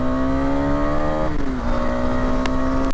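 KTM 250 Adventure motorcycle engine running at steady revs, a tonal hum that dips briefly as the pitch shifts mid-way, then holds, heard close and alone.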